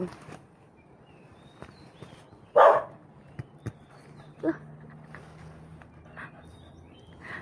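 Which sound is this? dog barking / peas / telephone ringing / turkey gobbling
dog barking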